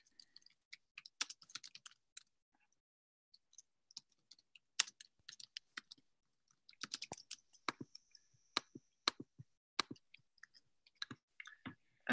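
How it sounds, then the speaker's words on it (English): Typing on a computer keyboard, sparse close clicks arriving in short irregular bursts separated by quiet pauses, with no speech. "you'll just see me as I'm like typing stuff in"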